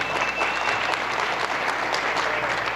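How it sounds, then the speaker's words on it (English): An audience at a fall forum gives a round of applause, a loud, thick, continuous clatter of many hands that holds steady from start to finish. "Round of applause for Aaron one more time, please"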